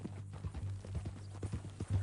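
Horse hooves clip-clopping in a video game, a quick, quiet run of rhythmic hoof falls over a low steady hum.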